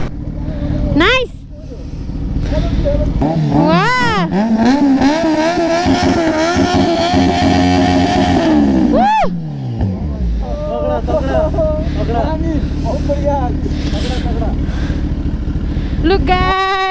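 A superbike engine revs up and down in rising and falling sweeps during a high-altitude mountain ride escort. The loud, close engine drone continues throughout with occasional voices.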